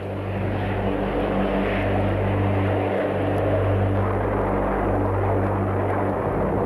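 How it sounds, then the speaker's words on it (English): An E-4 command aircraft, a large military airborne command post, flies with a steady, loud, droning engine hum that holds without a break throughout. "the commander of SAC and the President of the United States would each be safely transported aloft in an E-4 command aircraft"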